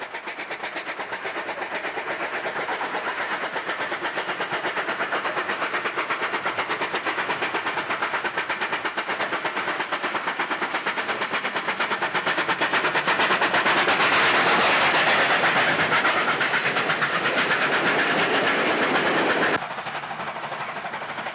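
Steam locomotive 3820 in New South Wales hauls a southbound mixed train up Exeter Bank, a continuous rumbling roll of wheels and engine that swells louder as it nears, then cuts off abruptly.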